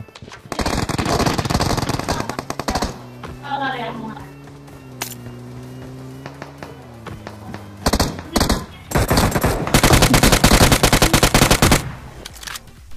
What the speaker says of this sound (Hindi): मुझे आगे से गोलियां चलने की आवाज आती है